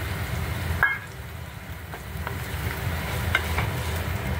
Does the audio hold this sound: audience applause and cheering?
no